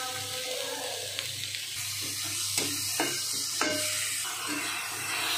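Chopped onion, cabbage, carrot, capsicum, green chilli and beetroot are stirred and fried in a pan for bread cutlets, a soft sizzle under a few clanking spoon scrapes and clicks, fairly quiet and close.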